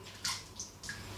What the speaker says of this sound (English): Just do one more dip in the water